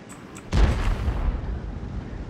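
A World of Tanks tank cannon fires an armour-piercing round: a single loud, heavy boom with a deep low-end thump, followed by a rumbling decay that fades over about two seconds, after a couple of faint clicks.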